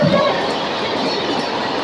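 A local train runs on the line toward Vangani during the monsoon, its steady loud rumble and rail noise filling the whole stretch, with faint clickety-clack rhythm and no talk.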